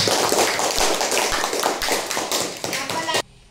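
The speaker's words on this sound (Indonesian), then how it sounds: "tepuk tangan untuk teman kita" Students in a classroom clap for a classmate, a brisk burst of hand claps and taps under some children's voices that stops abruptly near the end.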